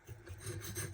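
A Kubey Master Chief KU358B AUS-10 steel knife is drawn across a coarse Naniwa 400 whetstone, giving a steady, close abrasive rasp that rises and falls with each stroke and continues without talk.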